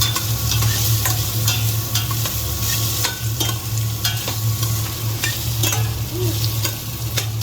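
Baguio beans and sayote sautéing for pansit with carrots in a pan, a steady close sizzle with frequent scraping stir strokes throughout, no talking.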